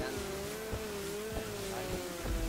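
Engine of a racing vehicle in GTA 5 whining at a steady high pitch under acceleration, with repeated thumps and tire noise, loud and close throughout.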